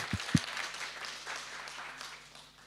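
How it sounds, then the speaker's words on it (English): Brief round of applause for an audience volunteer at a creativity talk, moderate scattered clapping from a room of people with a couple of low thumps at the start, fading quickly. "give him a round of applause"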